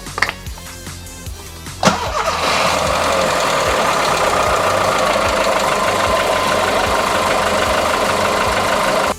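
A 1.4-litre 16-valve VW Golf 4 petrol engine cranks briefly, then fires up on its first start after a fuel filter change and settles into a steady, loud, even idle that runs on alone.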